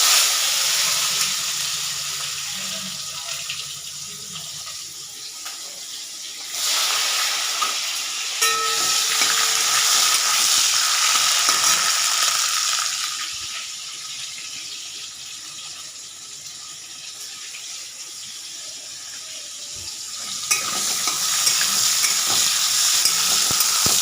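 Tomatoes frying in a pan with fried potatoes for tomato dal, a steady close hiss and sizzle with occasional stirring scrapes, louder in stretches, no talking.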